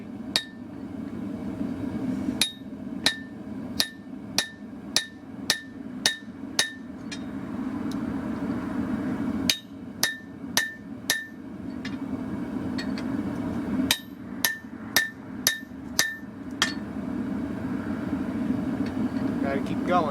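Clustered bursts of hammer blows ring out as steel for a knife is forged on an anvil, sharp metallic strikes in quick rhythmic runs separated by pauses, over a steady background din.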